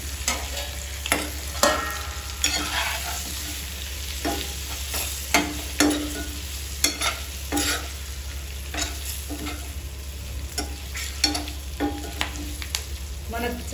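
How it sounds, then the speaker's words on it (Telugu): Curry leaves sizzle in hot oil for egg pulusu, a continuous close frying hiss punctuated by frequent sharp clicks and scrapes of a spoon stirring against the pan, with a low steady hum underneath. "మరి కొద్దిసేపు ఫ్రై ఫ్రై కావాలి మనం కొంచెం కరివేపాకు కూడా వేసుకుందాము"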